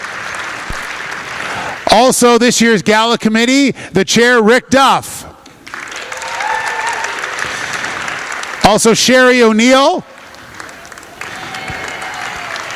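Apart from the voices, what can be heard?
audience applause at an awards gala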